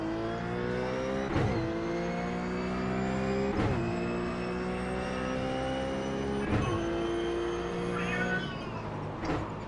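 An elderly cat meows near the microphone several times over a simulated race car engine droning steadily through the Homestead Miami road course in iRacing, the engine note rising and falling as it shifts.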